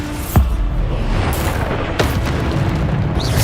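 Bombarda spell blasts in Hogwarts Legacy on PS5: a sharp boom near the start, then a sustained rumbling roar with another burst about two seconds in, loud and continuous throughout.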